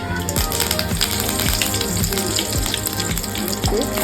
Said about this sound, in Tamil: ஒரு வானில் எண்ணெய் வச்சு கடுகு போட்டாச்சு